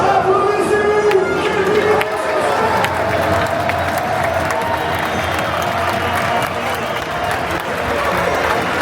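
A football stadium crowd of about 20,000 at an FC Sochaux match applauds and cheers in a loud, sustained roar, with chanting voices mixed in.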